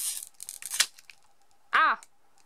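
A Pokémon card booster pack torn open by hand, giving crinkly ripping of foil wrapper in quick bursts, close and loud, followed after a pause by a brief spoken word.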